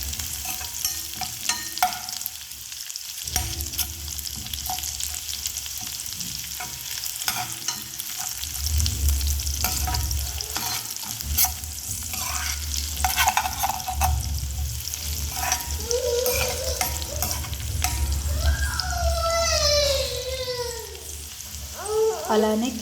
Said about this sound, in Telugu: అలానే వెల్లుల్లిపాయలు సన్నగా అయితే కట్ చేసుకున్నాను, వీటిని కూడా వేసుకున్నాం. మొత్తాన్ని అయితే ఒకసారి కలుపుకున్నాం.